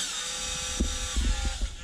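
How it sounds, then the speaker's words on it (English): A power drill whirs steadily at high speed close by, with a few low knocks and thumps under the constant motor whine. "that's a pretty powerful drill."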